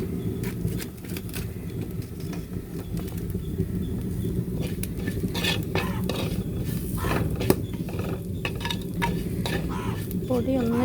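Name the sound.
stirring spice powders in a pan for Kottayam-style mackerel curry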